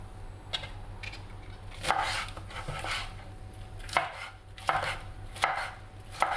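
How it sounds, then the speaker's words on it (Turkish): A knife chops peppers on a cutting board, giving sharp irregular thuds spaced about a second apart, close and fairly clear over a low steady background hum, with no talking. "Şimdi bu biberlerimi de biraz ufaltıyorum."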